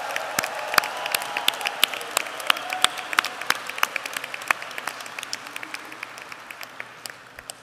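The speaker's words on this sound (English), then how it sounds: "let's give these graduates a big round of applause" Applause from a large audience, dense clapping that holds steady for several seconds before gradually thinning out.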